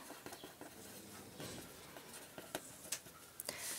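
Chalk or marker taps and scratches on a board in short, irregular strokes, faint and fairly close against a quiet room hiss, with no talking.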